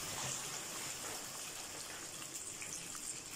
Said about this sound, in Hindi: अब मैं इसमें पानी शामिल करूंगा ताकि एक उबाल भी आ जाए और चिकन गल भी जाए।